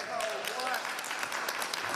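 Members of a town council special meeting in Richwood applaud after adopting the annual budget, a brief, faint patter of clapping in a meeting room.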